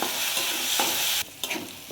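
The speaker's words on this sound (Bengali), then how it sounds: "ঘি দিয়ে ভাজবো বন্ধুরা মুগ ডালটা" Mung dal is stirred and fried in ghee in a pan, giving a close, steady sizzle with scraping stir strokes and one brief dip partway through.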